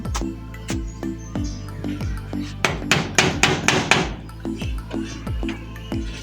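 Sharp hammer blows strike wood at an even pace, then break into a quick flurry of rapid hits before the steady rhythm returns.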